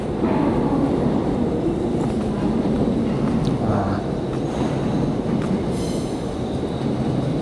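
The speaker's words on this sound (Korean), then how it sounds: "기차역이 보입니다, 이제." Railway station ambience at Yongsan Station, with steady train rumble and rolling rail noise filling the whole stretch, plus faint squeals and a few clicks over a dense, continuous background.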